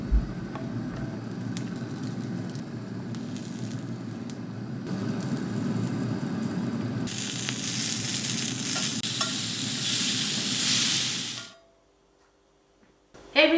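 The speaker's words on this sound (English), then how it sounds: "I'm gonna grill my tomatoes and peppers to serve" Tomatoes and peppers sizzling on a grill, a steady close frying hiss with a brighter, louder crackle in the second half, cutting off abruptly into near silence before a brief final knock.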